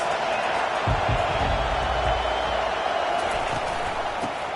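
Crowd noise at a college football stadium during South Carolina vs LSU: a steady, dense roar of spectators with occasional thumps, under a commentator's voice.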